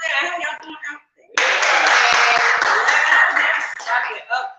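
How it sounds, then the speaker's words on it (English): A live talk-show audience breaks into loud, sustained clapping after a voice speaks, and the applause continues for several seconds before easing as the speaker resumes. "Yeah, clap it up, clap it up."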